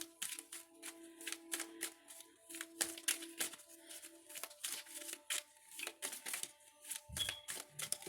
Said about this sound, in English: I'm going to shuffle for Romance Oracle deck.